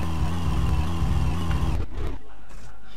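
A heavily loaded Satsuma car in the My Summer Car game drones with a steady, rough low engine hum that cuts out abruptly partway through, leaving near quiet.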